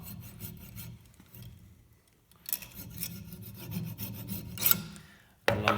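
Short rasping strokes scrape back and forth as a saw line is gently filed into an acrylic die-casting mould pattern, a gentle rhythm with pauses, close and fairly quiet.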